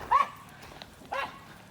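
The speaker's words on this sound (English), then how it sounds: "It's always the little dogs that make the most noise, you know." Small dogs bark twice outdoors on a farm with goats, each a short, sharp yapping burst at moderate distance.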